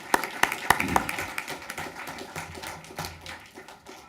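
Board of education meeting attendees clap after a 7-0 vote, a few sharp distinct claps at first, then thinning into a quieter, scattered patter of hand claps that fades in the room.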